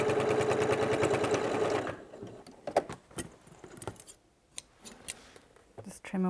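A sewing machine stitches backwards and forwards at the top of a pocket on a tool belt, a loud, fast rhythmic whir for about two seconds, followed by quieter clicks and handling noises as someone talks.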